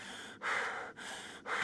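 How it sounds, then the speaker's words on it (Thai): A video game character in Carnivores: Dinosaur Hunter Reborn panting hard, with four heavy breaths in an even in-and-out rhythm, close and loud. "หอบแล้วล่ะ"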